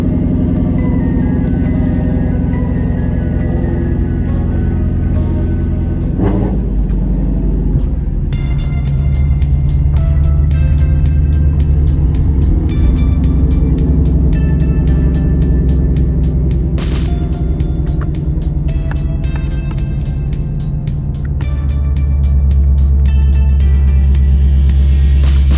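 A Ford Mustang 5.0 rolls up and down a driveway, its engine a loud steady low rumble close by that swells and settles as it shifts between reverse and forward, with faint clicks and no talking.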